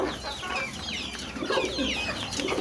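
Chickens are heard as a steady stream of faint, high-pitched chicken chick peeps and clucks, with soft, continuous background noise beneath and no talking.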